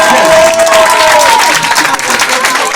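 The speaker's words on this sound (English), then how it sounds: "Come on, clap for God." An audience at a school leavers' party applauds loudly and continuously, a dense wash of clapping close by, with a faint sustained tone and possible light cheering mixed in.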